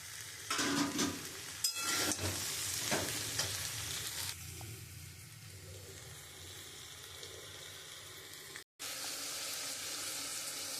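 Okra fries in a pan with turmeric, salt and poppy seed paste, giving a steady sizzle broken by several scraping stirs early on, then a quieter even frying hiss.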